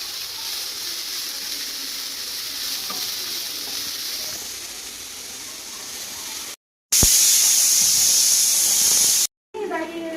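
Kuttanad-style beef curry sizzles in a hot pan with a steady, close frying hiss. The hiss cuts out briefly, then returns as a louder, brighter burst of sizzle.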